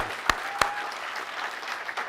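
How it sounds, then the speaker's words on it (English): Audience clapping at a drone community event, a steady wash of applause with a couple of sharp louder claps near the start, fairly close and continuous throughout. "So big round of applause for that."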